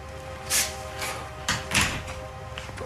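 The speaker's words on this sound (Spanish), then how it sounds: "cierra la puerta" Door being closed in an office, a couple of distinct thuds and a latch click spaced over a few seconds, near and moderately loud over a quiet room hum.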